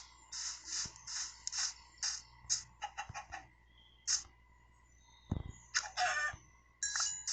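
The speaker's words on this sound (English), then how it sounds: "look, a chicken!" Video game chicken clucking repeatedly in short bursts with a brief crowing call, near and clear, with occasional game effects and a thump in between.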